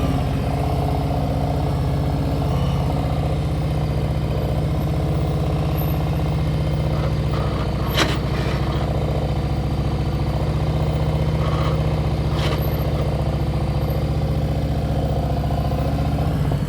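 A motorcycle engine runs slowly in first gear during slow-speed riding practice, giving a steady, close, unbroken low rumble that holds at an even level for the whole stretch with no talking.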